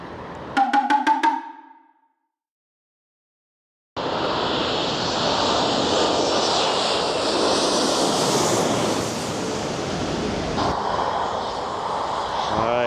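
An ANA airliner from Tokyo passes overhead at Songshan Airport in Taipei. After a brief chirpy burst and a few seconds of quiet, a loud, broad jet roar swells in and holds steady, close and overpowering.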